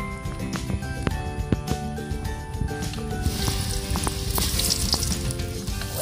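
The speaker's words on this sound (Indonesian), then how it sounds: "Kita goreng dulu." Kapok bananas fry in hot oil with a steady, loud, close sizzle that crackles and pops throughout and grows slightly busier toward the end.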